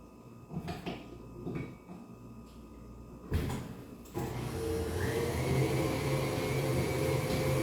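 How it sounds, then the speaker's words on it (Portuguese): A stand mixer fitted with a dough hook starts kneading panettone dough at low speed after a few knocks and clunks of setup, then settles into a steady whirring hum. "Vamos pôr aqui na batedeira. Vou pôr meu gancho."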